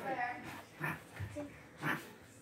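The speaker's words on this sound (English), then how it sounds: "I think that was your dog." Short breathy dog snorts and whimpers come in a few quick bursts, partly under people talking.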